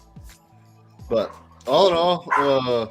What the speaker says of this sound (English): I apologize for my dogs. They won't shut up.